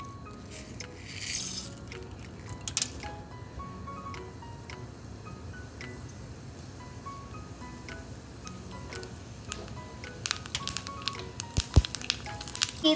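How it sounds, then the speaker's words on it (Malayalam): Mustard seeds in hot oil for a Kerala fish curry, a soft continuous crackle with scattered small pops growing more frequent toward the end, close and fairly quiet, with no talking. "ഇപ്പൊ എണ്ണ ചൂടായിട്ടുണ്ട്, നമുക്ക് ഇനി കടുക് ഇട്ട് കൊടുക്കാം."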